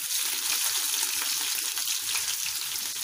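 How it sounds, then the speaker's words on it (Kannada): Chopped onion goes into hot oil for a tomato chitranna, giving a steady, close sizzling fry that fills the whole stretch with no talk over it. "ಈರುಳ್ಳಿ ಹಾಕೋತಾ ಇದ್ದೀನಿ."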